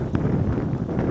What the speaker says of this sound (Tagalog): ang lakas ng hampas ng hangin